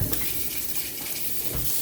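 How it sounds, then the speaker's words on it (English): Steady tap water runs from a kitchen faucet into the sink during a rental move-out inspection, a continuous hissing splash that holds close and even throughout without any talk. "I'll wash my hands after that."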